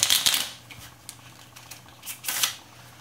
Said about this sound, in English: I'm going to try to shuffle them, and I know from experience I am not good at shuffling, especially phase 10 cards.